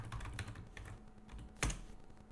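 Keys clatter on a computer keyboard as a login and password are entered, a quick run of close, quiet clicks ending in one sharper keystroke.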